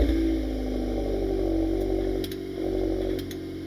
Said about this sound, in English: Nice little rumble from the turbo 4-cylinder heard through the optional Akrapovic titanium exhaust